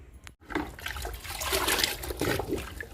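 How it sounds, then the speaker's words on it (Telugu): Liquid fertilizer poured from a container onto an indoor Rhoeo plant, a close, steady splashing and gurgling stream lasting a few seconds after a brief pause. "ఇది రోహియో ప్లాంట్ అండి, లిక్విడ్ ఇస్తున్నాను."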